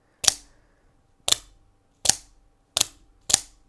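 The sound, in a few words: OTF knife blade firing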